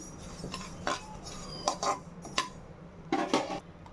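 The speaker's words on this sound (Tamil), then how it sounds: "கோதுமை கெவுரு தான் நல்லா வறுக்கணும்" Wheat grains are dry-roasted in a pan and stirred with a metal spoon, giving intermittent scraping and clinking strokes over a low steady background, with no talking.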